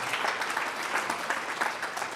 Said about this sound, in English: Can we also give her a big clap?